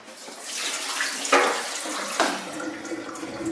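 Water from soaked chickpeas drains out in a running, splashing stream, with two sharp sloshing bursts as the container tips, close and fairly loud with no talking.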